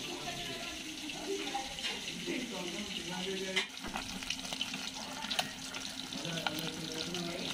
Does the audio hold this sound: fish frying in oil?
yes